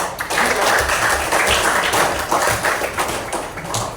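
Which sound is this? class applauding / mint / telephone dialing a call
class applauding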